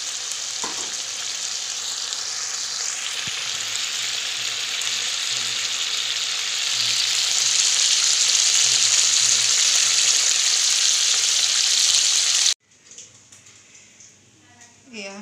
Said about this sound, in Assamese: এয়া কুকুৰাখিনি উলিয়াই ল'লোঁ অকণমান ফ্ৰাই কৰি।